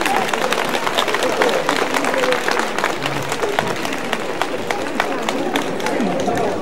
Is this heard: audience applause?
yes